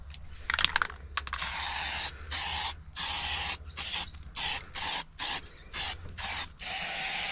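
Deluxe Metal Shield etch primer is sprayed onto a boat in a string of short hissing bursts from an aerosol can, close and fairly quiet, separated by brief pauses.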